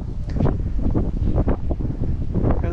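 Wind buffets the microphone in rough, uneven gusts, a low rumbling roar that swells and dips throughout.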